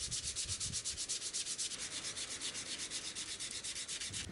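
Spindle sander shaving the edge of a guitar body built from layered paper, a steady close rubbing grind with a fast even pulsing throughout, no voices.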